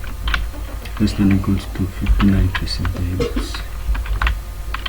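Computer keyboard typing while entering a grading formula in an Excel spreadsheet: quick, irregular clicky keystrokes throughout, close and moderately loud, under steady talk from a person explaining the steps.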